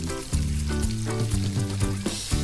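Unmarinated pork steak frying in a pan, a bright steady sizzle running the whole time beneath a louder tonal background with shifting notes.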